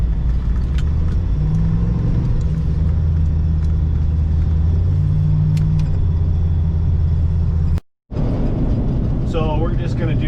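A four-wheel-drive vehicle with an exhaust leak drives on a snowy, treacherous road, its engine rumbling loud and steady throughout, with a brief drop-out near the end and a voice heard over it.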